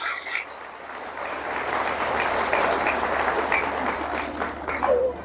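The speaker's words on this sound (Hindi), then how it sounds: "अपने लिए जोरदार तालियां बजाएं" A large crowd of women at a public gathering claps loudly for themselves, a dense continuous applause that swells and holds, heard from within the audience with no talking over it.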